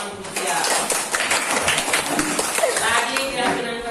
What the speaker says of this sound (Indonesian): Oke, tepuk tangan untuk Mutia.